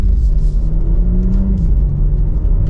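A 2024 BMW X4M accelerates hard, its engine rumbling loud and close in a deep, steady drone with a rising whir and no voices.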